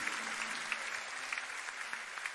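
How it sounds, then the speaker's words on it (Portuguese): A church congregation claps loudly and steadily in a dense, continuous wash of applause, with scattered sharper claps standing out and no voices over it. "Vamos aplaudindo bem forte."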